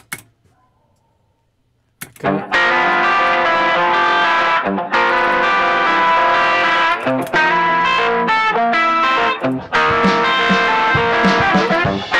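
Psychedelic sixties-style vocal chops sent through reverb in a music production session, a dense loud run of sung fragments in bursts after a short near-silent opening.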